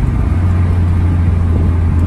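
A car engine idles with a deep, steady purring rumble, close and even from start to finish, with no voices.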